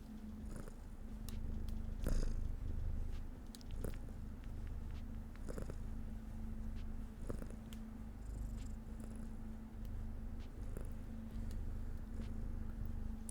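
Pet cats purring close to the microphone, a steady low rumbling purr running throughout with occasional small clicks and rustles, no talking.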